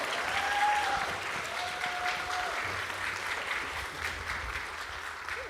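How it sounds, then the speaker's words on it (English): Sustained audience applause at a live community event honoring literacy nonprofit leaders, steady and fairly loud clapping throughout with a faint whistle or two, no talking over it. "Maybe a little more applause."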